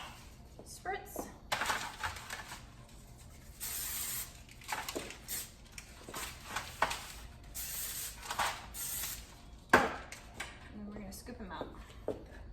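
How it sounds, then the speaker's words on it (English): A quick spritz of spray over a stiff Star Crunch mixture being stirred at home, a few short hissing bursts close by, mixed with clattering and scraping. "Okay, I'll give this a quick spritz."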